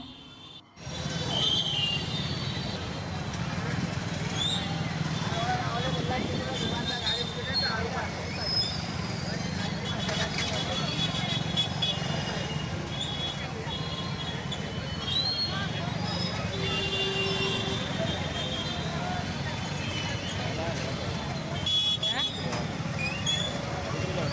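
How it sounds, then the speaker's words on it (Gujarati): Dense street crowd and vehicle traffic in Surat during the Ganpati festival, a continuous loud rumble of engines and crowd babble with horns and chatter mixed in throughout. "તમે જુઓ રસ્તા ઉપર ભીડ ને વાહનોના અવાજ સાંભળો તમે"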